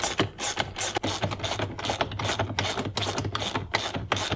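Metal clicks and ratcheting taps from a wrench bolting a battery terminal connection on a truck in a dual lithium battery setup, a close, busy run of short mechanical strokes with no talk.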